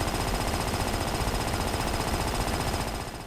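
A jackhammer in the video game Disaster: Day of Crisis pounds continuously in a rapid, loud mechanical rattle, easing off slightly at the very end.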